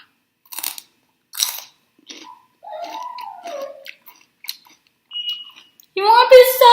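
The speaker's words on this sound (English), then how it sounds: "You're gonna listen to this crunch." Close crunchy chewing of raw celery, several sharp bites and munches separated by pauses, with a brief voice sound in the middle and louder chewing at the end.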